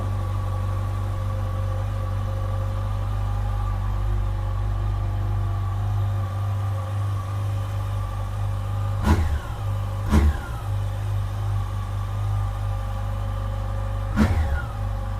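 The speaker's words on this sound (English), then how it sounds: "This sounds a lot better than the engine that was in it." A 2007 Yamaha FJR motorcycle with a replacement engine on its first start: a steady, close idle with three short throttle blips late on. No one speaks.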